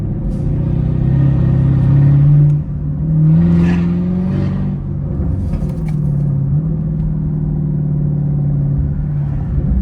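A Chevrolet SS engine rumbles steadily with a loud, throaty exhaust, revving up briefly a couple of times while cruising close by.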